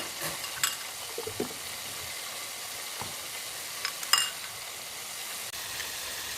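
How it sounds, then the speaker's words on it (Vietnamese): Chicken being stirred and mixed with fish sauce and oyster sauce for a sweet and sour stir-fry, giving a soft, steady scraping and sizzling texture with a few small utensil knocks, moderately quiet and without voices. "Rồi mình trộn đều lên."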